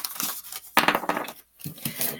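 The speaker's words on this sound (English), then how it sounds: "let me shuffle a bit more" Crisp papery riffling and crinkling of tarot reading cards being shuffled in a few quick bursts, close by, with short pauses between them.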